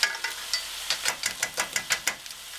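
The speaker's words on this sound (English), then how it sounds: "Put it in the food processor." Rapid bursts of a food processor blade chopping a large yellow onion, a series of short sharp pulses close up with no talking.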